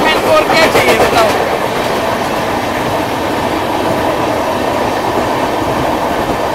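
Two trains race side by side at high speed, one overtaking the other, giving a loud, steady rumbling roar with rapid clickety-clack from the wheels, heard close from onboard while a voice talks faintly underneath.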